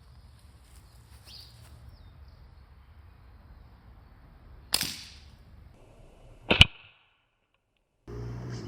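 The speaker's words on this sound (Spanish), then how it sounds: "voy a disparar con liga GCK de 1 milímetro de espesor, con balín de acero de 8 milímetros" A 3D-printed slingshot with 1 mm GCK bands fires 8 mm steel balls: two sharp, loud cracking snaps a couple of seconds apart, each a brief impact burst over faint outdoor background.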